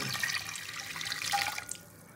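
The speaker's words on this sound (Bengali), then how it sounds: "এবার এই জলটাও আমি দিয়ে দেবো।" Spiced water, boiled with nutmeg, mace, whole garam masala, salt and sugar, pours into a pot of rice for basanti pulao, a close, steady splashing trickle that tapers off near the end.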